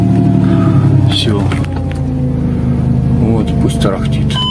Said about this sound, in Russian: Ой, как я люблю звук этого мотора.